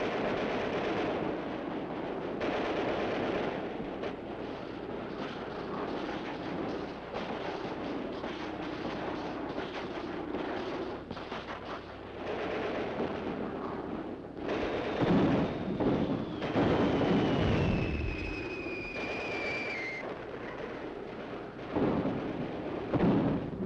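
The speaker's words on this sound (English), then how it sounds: "Under cover of Russia's heavy artillery" Heavy Russian artillery fire in a wartime battle, a steady barrage of dull booms and rumbling blasts with a few louder, closer bursts and a falling whistle near the end.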